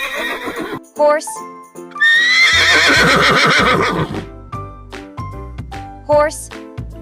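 A horse neighs in a long, loud, quavering whinny at mid-clip, set among shorter bright animal calls and light jingling in a farm-animal sound sequence.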